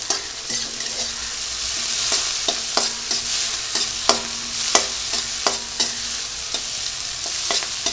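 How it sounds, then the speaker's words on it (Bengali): Onion, radhuni, cumin, bay leaf and green chilli fry together in oil for a tilapia and taro curry, giving a loud, close, constant sizzle with a spoon scraping and knocking the pan in a steady rhythm about twice a second. "এবারে পেঁয়াজ, রাঁধুনি, জিরে, তেজপাতা, কাঁচা লঙ্কা এগুলো একসঙ্গে ভেজে নেব একটু।"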